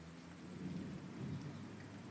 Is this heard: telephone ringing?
no